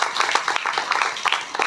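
A congregation at an outdoor church fellowship claps loudly together, a dense, steady patter of many hands that carries on without a break.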